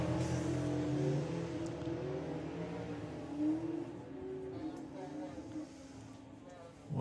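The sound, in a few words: drag racing car launching and blazing its tyres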